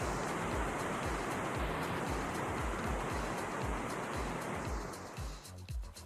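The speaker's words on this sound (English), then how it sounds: "I do not know how loud that waterfall is" A waterfall in the VRChat virtual world roars as a loud, constant broadband rush of falling water, steady throughout and thinning slightly in the last second, with no voices.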